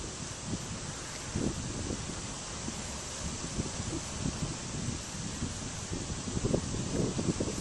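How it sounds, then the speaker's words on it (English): Wind blows steadily outdoors as a constant broad rushing hiss with gusty low buffeting against the microphone, no voices. "apparently the wind wants to play because it keeps on blowing"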